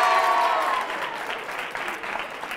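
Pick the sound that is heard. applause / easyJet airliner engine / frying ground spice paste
applause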